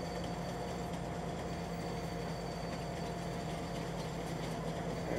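Train in Farming Simulator 19 rumbling steadily and loudly throughout, a continuous low engine drone with faint rail clatter, no voices.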